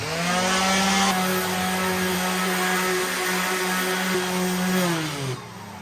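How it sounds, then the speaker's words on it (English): A power sander whines loudly against wood of a truck bed drawer system in a continuous, steady drone, its pitch dipping slightly before it winds down near the end. "Gotta keep sanding."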